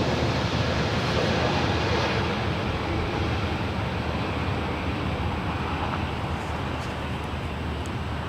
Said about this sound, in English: JetBlue Airways 1524. It's an Airbus A321 Neo.